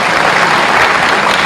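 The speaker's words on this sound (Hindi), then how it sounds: "जोरदार ताली बजाओ" Loud, sustained applause from a large crowd at an agricultural innovation dialogue event in Bhopal, with steady, dense clapping throughout and no speech over it.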